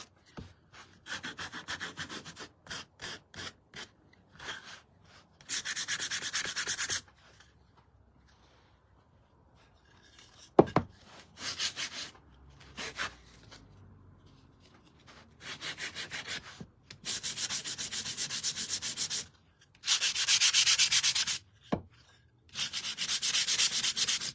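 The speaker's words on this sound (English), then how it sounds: "I just ran a little bit of sanding over the top of it" Wood is sanded by hand in short bursts of rough scratchy rubbing, with quiet pauses between the strokes and a few louder knocks.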